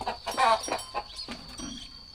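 A chicken clucking close by in a series of short, quick calls, fairly faint, with no talking.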